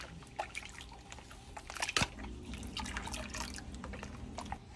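Strawberry mix is poured into a lemonade drink, a quiet, close run of liquid drips and splashes with one sharper splash midway, with no talking.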